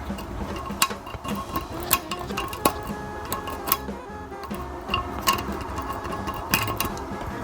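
An Allen wrench scrapes and clicks in the jet holes under the rim of a weak-flushing toilet bowl. Irregular close metallic ticks and taps sit over a low background rumble.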